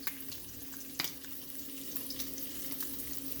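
Walmart low sodium bacon frying in a pan gives a steady, close crackling sizzle with scattered pops and one sharper snap, heard alone without talk.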